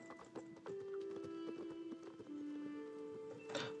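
Rapid rhythmic clopping of horse hooves at a gallop in the video game Star Stable, close and continuous, over a faint sustained musical drone.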